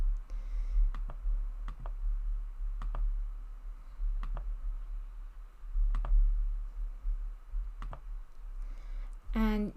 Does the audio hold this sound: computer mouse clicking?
yes